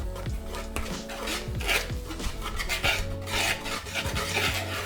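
A spoon rasps and scrapes through dry flour, baking powder, sugar and semolina in a bowl, with close, uneven rubbing strokes and occasional light knocks against the side.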